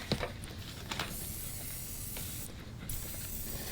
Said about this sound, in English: And then we're going to go ahead and just spray our pan